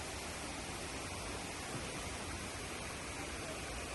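Waterfall in Bali, a constant broadband roar of falling water, steady and fairly close, with no breaks or voices over it.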